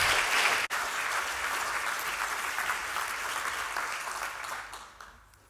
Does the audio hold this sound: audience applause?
yes